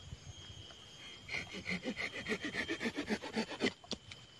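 A pocket folding saw cuts through a wood branch in quick, rhythmic back-and-forth strokes, close up, after a brief quiet start.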